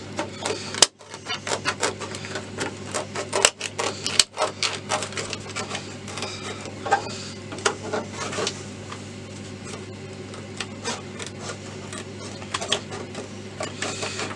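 Close, repeated crisp snips and crackles of scissors cutting through a stiff plastic RC car body, in an uneven rhythm with brief pauses.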